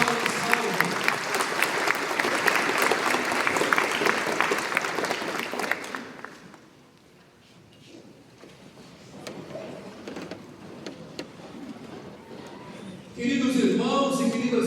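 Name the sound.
applause from church congregation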